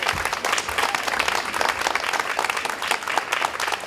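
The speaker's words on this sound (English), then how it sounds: "let's give them a round of applause one more time" An outdoor community crowd claps steadily and enthusiastically, a dense, continuous wash of applause at close range throughout.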